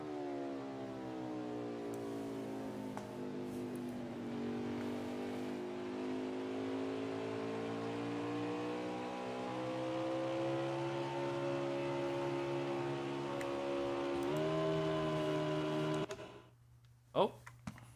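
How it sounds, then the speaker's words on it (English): A race car in a racing video game at New Hampshire Motor Speedway drones down the backstretch with a steady, harmonic engine whine that rises and dips slightly. The sound cuts off abruptly near the end, leaving a couple of faint clicks. "Listen to how he drives this car down the backstretch, going into turn 3."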